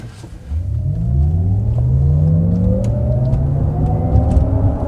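A 2023 Cadillac Lyriq electric car accelerating hard from a standstill, its electric motor whine rising steadily in pitch over a loud road and cabin rumble, heard from inside the car.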